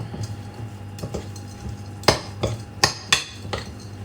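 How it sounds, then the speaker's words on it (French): Gluten-free, dairy-free cookie dough with chocolate chips being mixed in a bowl, heard as a handful of sharp utensil clacks and scrapes against the bowl, spaced irregularly over a low steady background hum. "Vous mélangez, la pâte est prête."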